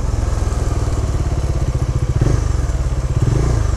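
A Bajaj Dominar 400 motorcycle engine cranks without catching, a fast, steady chugging starter rhythm that stays close and loud, briefly sputtering midway but never settling into an idle.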